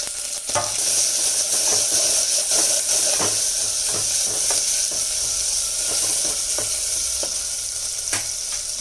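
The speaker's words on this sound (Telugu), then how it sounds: "తర్వాత పచ్చిమిర్చి వేసుకొని ఆనియన్స్ కూడా వేసి కలుపుకోవాలి అవి కాసేపు వేగినంతసేపు వేసుకోవాలి" Green chillies and onions frying in a pan, a steady loud sizzle with repeated scraping stirs of a spoon at roughly regular intervals.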